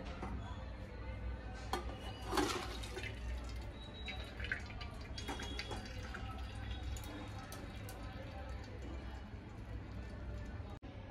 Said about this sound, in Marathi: नूडल्स शिजून झाले आहे, आता आपण गाळून घेऊया।